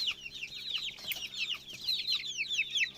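Chicks and young quail in a small poultry shed fitted with nipple drinkers cheep in dense, overlapping high chirps, steady and close, with a faint low hum underneath and no talking.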